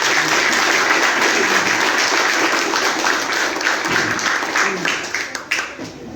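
A church congregation gives loud applause during a Spanish-language teaching service, a thick, continuous clapping that thins and fades toward the end.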